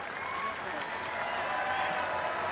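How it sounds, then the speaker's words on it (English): Crowd applause and cheering from the supporters' section at a Hartford Athletic professional soccer match, a steady wash of clapping and crowd noise that holds at an even level throughout. "And Kyle Karinga gets a warm round of applause from the 19th Regiment and the Hartford Athletic faithful."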